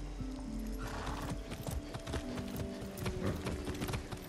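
Horse hooves clip-clopping at a steady riding pace in the video game Far Cry 6, the rhythmic footfalls set against game music and an occasional whinny, moderately loud and continuous.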